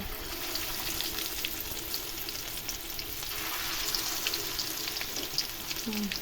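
Hilsa fish, its onions pushed aside, fries in oil with a constant crackling sizzle, fairly quiet and steady, with a few faint clinks and no talking.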